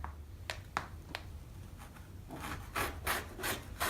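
Fabric pieces for pillowcases are trimmed with a few crisp snipping cuts followed by a run of rougher rhythmic slicing or rubbing strokes, close and fairly quiet, with no talking.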